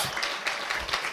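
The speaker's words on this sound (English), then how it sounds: "Can I have a warm round of applause for myself?" Audience applause at a summit: a short burst of dense, continuous clapping from a crowd, fairly close and without talk.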